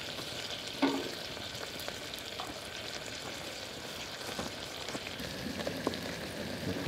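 Onions and garlic sizzle steadily in a pan at a forest campsite during heavy rain, a close, continuous crackling hiss with occasional louder pops and stirring clatter.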